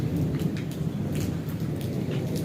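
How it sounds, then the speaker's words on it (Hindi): Heavy rain pours steadily in Sargodha, a dense, continuous roar of downpour with a rumble of thunder beneath, close and loud throughout with no voices. "बारिश तेज़ हो गई है फिर दोबारा, बहुत तेज़ बारिश हुई है"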